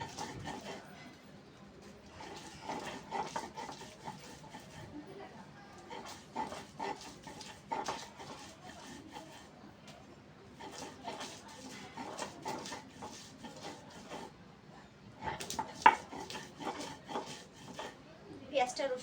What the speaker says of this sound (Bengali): পেঁয়াজটা রসুনটা বেটে নেব একবারে